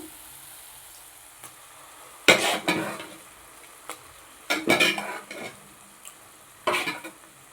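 Gongura curry with dried shrimp cooking in oil in a pan, a soft ongoing sizzle punctuated by several bursts of stirring and scraping with a utensil, close by and without talk.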